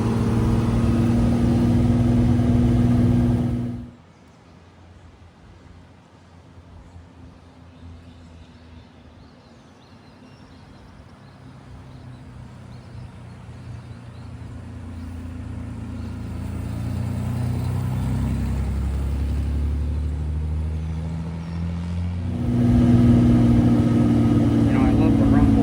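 A 1962 Austin Healey 3000 engine and tuned exhaust while driving in third gear, a steady low rumble that dips after a loud opening, then builds back up as it pulls.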